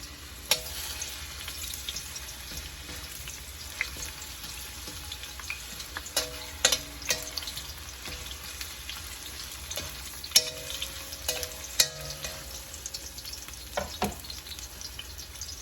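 Onion frying in a not-quite-hot pan for seafood udon: a soft, continuous sizzle throughout, broken by scattered utensil clinks and scrapes against the pan.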